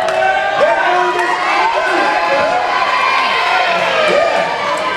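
A church crowd in a busy indoor room cheers and shouts encouragement to contestants, with voices rising and overlapping in a constant loud din.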